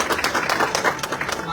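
Audience applause honours an achiever at an AWPL gathering in Azamgarh: a dense, noisy burst of many hands clapping at once, mixed with voices talking over it.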